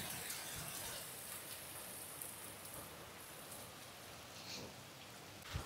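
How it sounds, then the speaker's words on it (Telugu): Steady, dense rain from a heavy storm pours down in a constant hiss, with occasional louder splashes close by; no voices. "బయట చూడండి ఎంత వర్షం పడుతుందో"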